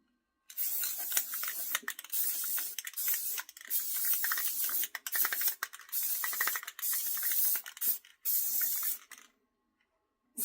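Rust-Oleum spray paint is sprayed outdoors on yard items in repeated short hissing bursts from the can, with brief gaps between pulls of the nozzle and a longer pause near the end.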